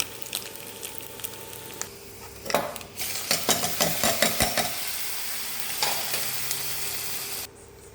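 Dried red chillies fry with grated coconut in a pan, giving a steady sizzle under a run of rhythmic spoon scrapes and taps before the sound suddenly drops away near the end.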